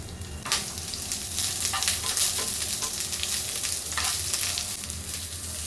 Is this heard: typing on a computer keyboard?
no